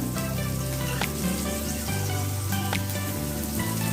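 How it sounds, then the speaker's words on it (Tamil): Chopped onion dropped into hot oil with cumin and mustard seeds, a loud, continuous close-up sizzle with scattered crackles and a steady low hum underneath. "ஜீரகமும் கடுகும் பொரிஞ்சதுக்கப்புறம் நான் ஒரு பொடி வெங்காயம் போடணுங்க"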